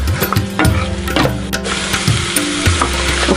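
Chicken pieces frying in a pan after being boiled, a loud continuous sizzle with repeated scraping and stirring strokes of a spatula, no voices.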